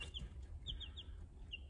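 Baby chicks peep in soft, high, scattered cheeps while drinking water, faint and close against a low background hum, with no talking.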